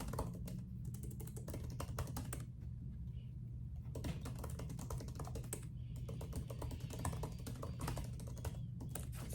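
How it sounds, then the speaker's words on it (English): Fingers tap steadily on a computer keyboard, the quick close clicks coming in bursts with brief pauses, quiet and without talk. "I'm typing much faster than writing it down"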